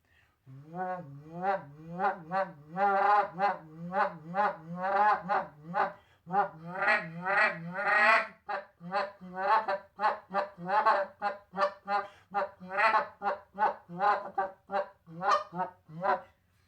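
Goose call blown by hand, imitating geese with a run of low murmuring honks and clucks, closing with short, quicker peep-style clucks; rhythmic and close, without talk.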